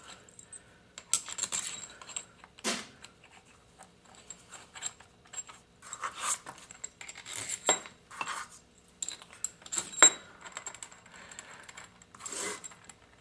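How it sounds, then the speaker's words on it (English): Four tie rod screws and lock washers clink and jingle in a hand during workbench assembly, a scattered series of small metallic chinks and rattles, close and fairly quiet, with no talk. "Then typically next, I would put the 4 tie rod screws with lock washers in."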